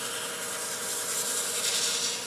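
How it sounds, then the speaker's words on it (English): Sandpaper rubs against a wood piece spinning on a lathe at slow speed, a steady close hiss of abrasion with slurry, continuous and even for the whole stretch with no voices. "I got my sanding speed down."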